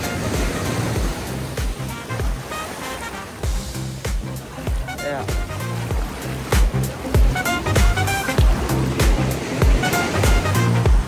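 Sea waves roll and break on Baga Beach in North Goa, a loud continuous surf wash with surges, while people talk over it.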